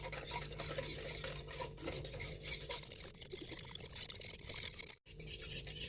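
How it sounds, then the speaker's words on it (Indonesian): A utensil scrapes and swishes through a thick purple sweet potato cendol mixture in a wok, rhythmic stirring strokes close by, with a short pause near the end. "Lalu aduk sampai semuanya tercampur"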